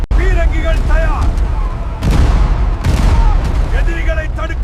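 Ship cannons fire in a sea battle, two heavy booms a second apart cutting through a loud, dense din of battle noise and shouting voices.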